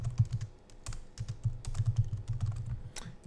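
Fingers tap a computer keyboard in quick, uneven bursts of close, soft keystrokes with brief pauses, no voices present.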